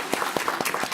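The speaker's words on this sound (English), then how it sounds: "You're free to applaud." A conference audience applauds, a brief patter of handclaps at a steady rhythm, fairly faint and distant.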